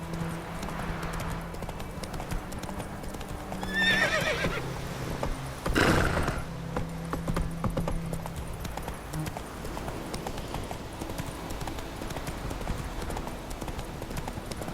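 Geralt's horse Roach in The Witcher 3 gallops with rapid steady clip-clop hoofbeats, with a whinny and a louder burst near the middle, close and continuous.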